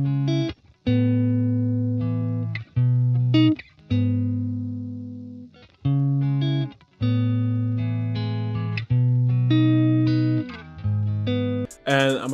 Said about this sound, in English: So, the guitar recorded sounds like this.